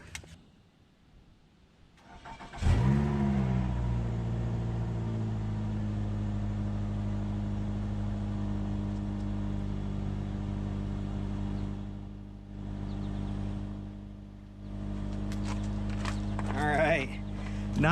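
A Nissan Altima fitted with a new resonator and muffler cranks and fires up after a quiet start, then settles into a steady, smooth idle that holds close and even, with a brief dip and later a short rev near the end.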